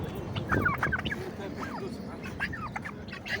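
Busy chattering and clucking cries from several large guinea fowl close by at an animal market, mixed with background voices of people talking.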